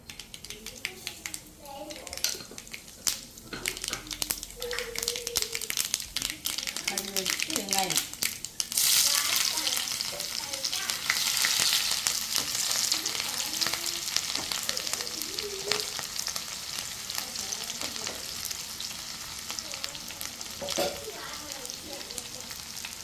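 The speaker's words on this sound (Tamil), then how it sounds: "தாளிக்கிறதுக்கு நல்லெண்ணெய் ஊற்றிக்கலாம் எண்ணெய் சுட்டுச்சு கடுகு போட்டுடலாம்" Mustard seeds are dropped into hot sesame oil for tempering and burst into a rising, crackling sizzle that grows loud and then settles into a steady fry, with a voice talking intermittently over it early on.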